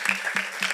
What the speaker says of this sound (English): Kathy can get applause.